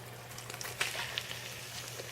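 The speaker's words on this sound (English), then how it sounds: "I don't know if you can hear it sizzling" Faint crackling sizzle of olive oil in a hot pan, soft irregular pops over a low steady hum.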